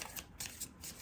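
A tarot card deck is shuffled in a few quick riffling bursts of papery card flutter, close and fairly quiet, with no voices.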